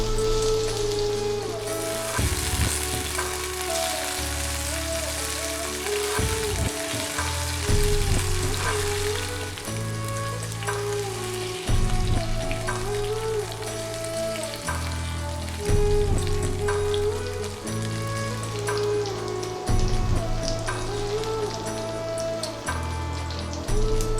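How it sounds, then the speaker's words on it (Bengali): Potato pieces fry in a pan with a continuous close crackling sizzle that lasts throughout, partly under tonal background music. "পটলের টুকরো ফ্রাই হয়ে গেলে আমরা আলুর টুকরোগুলো একইভাবে ফ্রাই করে নেব"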